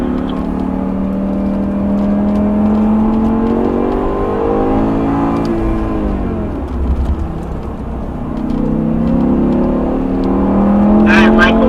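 BMW M6 engine on a driving-school track, braking at the end of a straightaway and downshifting to second gear: a loud, close engine drone sweeps down and back up in pitch, with a brief mechanical clatter mid-way and voices beneath.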